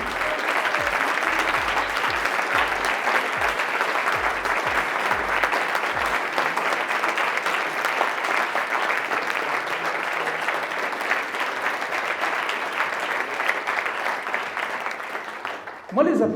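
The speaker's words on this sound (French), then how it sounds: "je vais leur demander de se lever et de tous les applaudir" A room full of people applauds participants in a job-seeking program, long sustained clapping that stays loud and even for about fifteen seconds, then cuts off into a short louder noise at the close.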